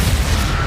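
Crucio curse spell cast in Hogwarts Legacy inside a cave, a short, loud, booming impact with rumbling low-end thuds.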